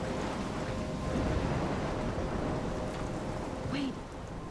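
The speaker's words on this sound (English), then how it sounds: "I'm trapped in a storm?" Steady rain and a rumbling thunderstorm from the opening scene of the Life is Strange video game, a dense continuous wash of falling rain with low thunder rolling underneath, loud and enveloping, and no talking.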